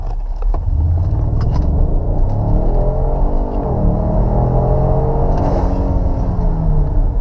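A Ford Explorer Sport with an EcoBoost engine pulls hard under acceleration, a loud, steady engine drone and rumble building continuously from start to finish, heard from inside the vehicle.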